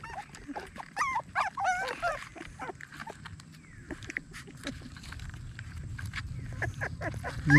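Wild dogs whimper and yip in short, scattered high cries close by, over a continuous low rumble that rises toward the end.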